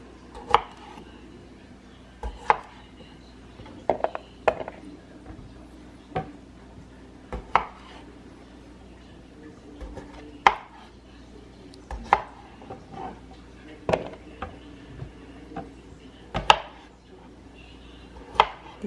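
A knife chopping a very large onion on a cutting board, sharp irregular thuds spaced a second or two apart, close and fairly loud over a quiet room, no talk.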